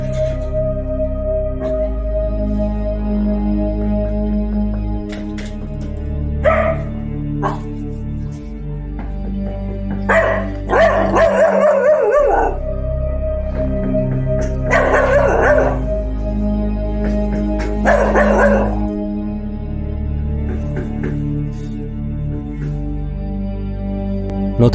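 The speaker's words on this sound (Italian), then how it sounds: "il cane sale sul divano e incomincia ad abbaiare a qualcosa." Indoors, a dog perched on a sofa barks and yips at something outside the window in scattered bursts, with whimper-like howls between them and some talking in the background.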